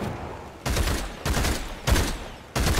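Gunfire in a free vampire battle royale video game: several bursts of rapid shots in quick succession, loud and close, with brief gaps between volleys and no talking.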